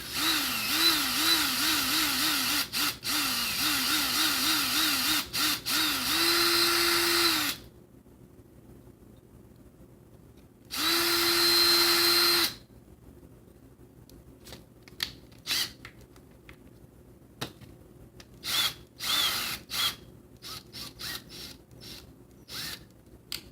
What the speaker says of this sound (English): So I gotta drill out the back corner of this real quick here